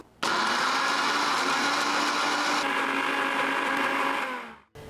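A mixer grinder jar grinds soaked red chillies into a paste, a loud steady whirring drone that starts abruptly and runs for several seconds, its pitch shifting slightly midway, then cuts off. Nobody speaks.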